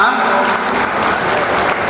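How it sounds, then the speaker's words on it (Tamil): An audience at a reunion meeting of retired railway officials breaks into loud, dense applause, a continuous wash of clapping throughout. "தயவுசெய்து பலத்த கைத்தட்டல்"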